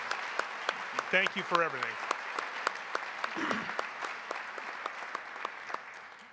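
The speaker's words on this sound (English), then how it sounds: "So can I get a round of applause again for our leadership team?" Applause for the leadership team at a senior high school National Honor Society spring induction, steady crowd clapping throughout, with a brief voice speaking over it partway in.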